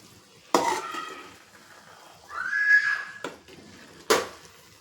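Maggi rice being stirred in a pan, with sharp scrapes and knocks of a spoon against the metal and a soft sizzle rising in between, close and moderately quiet.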